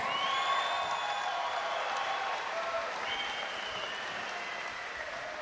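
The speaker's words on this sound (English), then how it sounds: "can we please have a round of applause for these two fighters?" A crowd at a King in the Ring boxing event gives steady applause for two 62 kg fighters, heard from a distance with cheering and a ringing tone drawn out over the claps.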